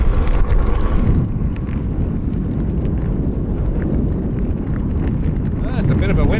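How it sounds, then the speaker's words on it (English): Gusting wind buffets the microphone during a mixed-surface desert bike ride in Anza Borrego, a loud, steady low roar throughout with tyre and road rumble beneath. "There's a bit of a wind getting up here."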